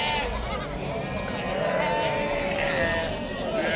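Sheep and goat kids bleating at a livestock bazaar in Namangan, repeated cries over a dense crowd hubbub with people talking throughout.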